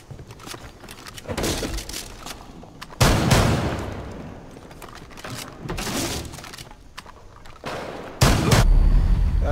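Gunfire and a shotgun in Rainbow Six Siege house match: scattered loud shots and heavy blasts, irregular bursts with impacts and breaking debris between them, close and punchy.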